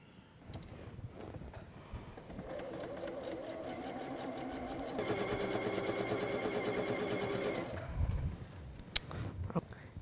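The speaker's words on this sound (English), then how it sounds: "I will sew these together." A sewing machine stitches quilt pieces together, running as a steady close mechanical whir that speeds up midway, then stops, followed by a few handling clicks.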